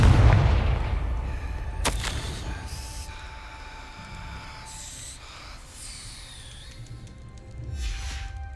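Spell explosion from the Confringo fire charm in the game Hogwarts Legacy, a loud low boom at the start that rolls off into rumbling, with a sharp crack a moment later and soft magical shimmer and ambience afterward.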